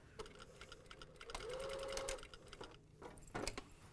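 A sewing machine stitches elastic onto stretch leggings, back tacking in short bursts that rise to a brief sustained whir near the middle before quieter stops and starts.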